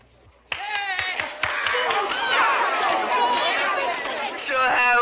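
A few sharp hand claps in a quick, regular rhythm open the sound, followed by a lively, busy chatter of voices that rises and stays loud to the end.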